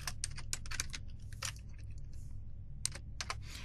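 Typing on a computer keyboard during a coding session: quick bursts of close, light key clicks separated by short pauses, with no talking.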